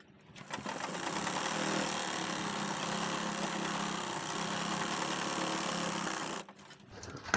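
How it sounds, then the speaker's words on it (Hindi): A sewing machine runs steadily, stitching along the side of a handmade travel bag, a continuous close mechanical whir lasting about six seconds before stopping abruptly, with no talk. "इस साइड भी हम ऐसे ही सिलाई लगा लेंगे"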